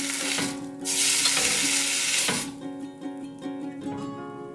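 A grilled cheese sandwich fries in a pan, bread crisping with a continuous sizzle, swelling louder for a moment then settling back under faint clinks.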